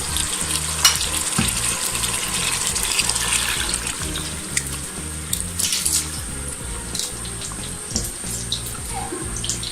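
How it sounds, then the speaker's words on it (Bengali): Soaked lentils are mixed into boiled beef for haleem in a pot, giving a busy wet sizzle with rhythmic scraping and sloshing strokes, loud and close, no voices. "ডালটা দিয়ে আমি ভালোভাবে মিক্স করে নিচ্ছি।"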